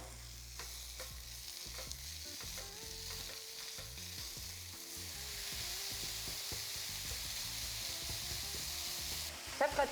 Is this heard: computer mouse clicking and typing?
no